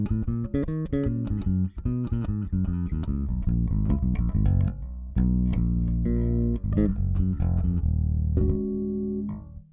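Electric bass played through a dry DI signal with no cabinet model, running a busy line of plucked notes. The tone is clear and close, with steady bright attacks and a few held notes toward the end.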